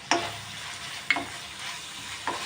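Ginger garlic paste and green chili paste frying in a pan, a soft continuous sizzle broken by three distinct scrapes of a stirring spoon, close by and without talk.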